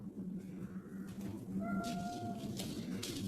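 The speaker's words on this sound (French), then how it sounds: "Ça c'est minou." A house cat meows once, a clear tonal call rising over a steady low background hum, moderately close and alone.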